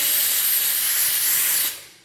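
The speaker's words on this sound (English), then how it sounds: "So the steam cleaners work. Small but powerful." A small but powerful steam cleaner blasts dirty tile grout with a loud, steady hiss that holds for about one and a half seconds, then quickly tapers off as the jet stops.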